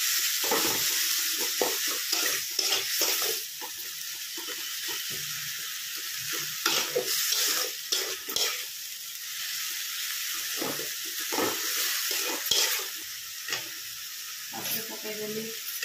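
Tomatoes cook in a pan for an Odia saag recipe, a continuous sizzle broken by repeated scraping and stirring strokes, near and fairly busy, with occasional faint voice sounds in the background.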